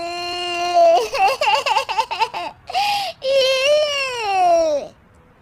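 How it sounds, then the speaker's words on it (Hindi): Cartoon baby wailing in loud, wavering cries with a short break, then one long rising and falling sob, alone with no talk over it. "ये बच्चे के रोने की आवाज कहाँ से आ रही है?"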